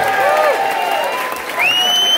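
A crowd at a concert at Harlow's applauds a saxophonist, the clapping mixed with loud whistles and rising cheering voices sounding close over the ongoing wash of hands.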